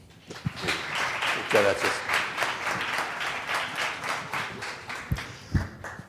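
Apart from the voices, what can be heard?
audience applause welcoming a speaker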